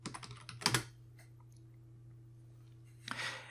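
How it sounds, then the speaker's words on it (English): Typing on a computer keyboard to enter a search, a quick burst of soft key clicks near the start, a quiet pause with faint hum, then another short cluster of taps at the end, close and without speech. "I'm just going to go ahead and type in leg pillows here."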